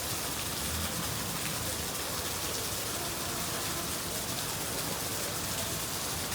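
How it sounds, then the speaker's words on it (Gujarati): Steady rain pours down in a continuous, dense wash, close and fairly loud with no clear gaps, in what sounds like an outdoor setting where water channels have started flowing. "વરસાદ ચાલુ થયો"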